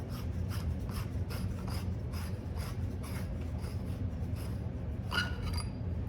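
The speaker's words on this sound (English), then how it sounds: "And then to get to everything, we just want to unscrew this handle." Metal handle being unscrewed from a custom lightsaber hilt, giving a steady rhythmic scraping and rasping of threads, close and continuous, with no talking.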